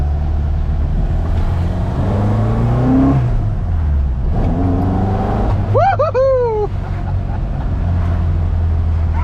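Ford Mk1 Escort rally car engine rising and falling through loud revs from inside the cabin, steady drone with a sweeping climb, while a person whoops and speaks briefly over it.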